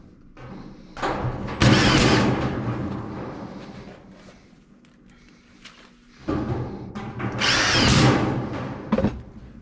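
A power drill drives screws into a sheet-metal reducer transition, two loud whirring bursts separated by a quieter stretch of handling noise.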